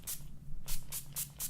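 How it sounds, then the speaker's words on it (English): NYX Dewy Finishing Setting Spray misted onto the sides of a face in five quick, close, airy bursts with short pauses between. "I'm going in with the NYX Dewy Finishing Setting Spray"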